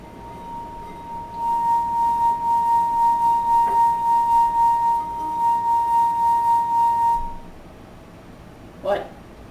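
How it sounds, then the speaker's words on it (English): A crystal wine glass rubbed around its rim with a finger rings out in a steady, pure sustained tone with a gently pulsing swell, lasting several seconds before stopping, followed by a brief clink. "why does a crystal wine glass produce sound when you rub your finger on it?"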